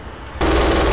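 An MG 42 machine gun in the Red Orchestra 2 video game opens fire after a short quiet lead-in, a loud, dense, continuous burst at very high cyclic rate up close.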